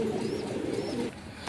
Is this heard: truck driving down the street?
no